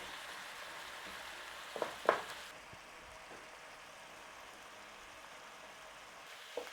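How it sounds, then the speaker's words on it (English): Minced beef frying and browning in a pan, releasing a steady, moderately quiet sizzle throughout, with a couple of brief scraping stir sounds early on. "So just get your mince browned off in there."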